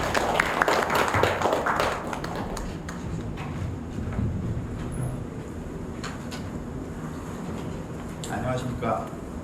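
Audience applause at the opening ceremony of an academic conference, a dense crowd of clapping that starts strong and gradually thins out, with speech murmuring faintly underneath.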